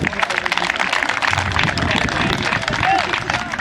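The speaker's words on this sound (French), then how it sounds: "Et je pense qu'on peut applaudir très fort Salès" Children's football tournament crowd applauds quiz winners at a prize ceremony, with dense steady clapping mixed with cheering voices and babble throughout.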